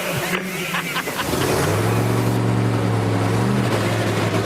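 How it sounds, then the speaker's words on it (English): A powerful nitro funny car drag racing engine roars to life and holds a loud, steady rumbling drone, close and dominant, with a faint voice early on. "Fire them up! Make some noise in there, Dan."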